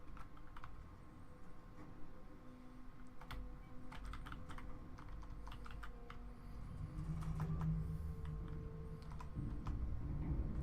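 Computer keyboard keys tapped steadily and fairly close while playing Aliens vs. Predator: Requiem on PC, a continuous run of clicks over low game audio that swells louder in the second half.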